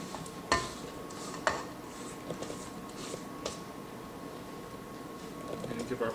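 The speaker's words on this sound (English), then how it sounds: "we're going to give our bowl a scrape again" A spatula scrapes down a mixing bowl of cookie dough, producing faint scraping and a few light knocks against the bowl over a steady low hum.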